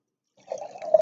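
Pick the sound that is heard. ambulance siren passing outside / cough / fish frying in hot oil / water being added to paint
water being added to paint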